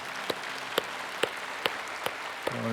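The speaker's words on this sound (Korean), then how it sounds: "하나님께 다시 한번 감사의 영광의 박수를 올려드리겠습니다" Church congregation at a new-life festival service, applause carried as a steady wash with a few sharp individual claps standing out at regular intervals.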